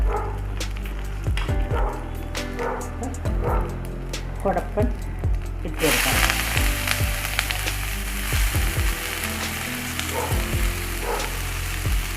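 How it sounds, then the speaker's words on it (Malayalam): Loud frying in hot oil as mustard seeds pop, the crackle suddenly bursting into a brighter, fuller sizzle midway as curry leaves and two chilies go in, with low thumps and a voice talking over it. "കടുക് പൊട്ടി ഇനി നമുക്ക് കറിവേപ്പിലയും രണ്ട് മുളകും കൂടെ"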